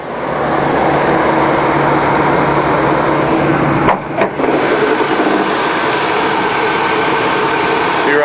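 Engine of a Chevy Cheyenne 3500 HD boom truck idling, a steady loud close rumble that holds even throughout, with only a brief dip near the middle.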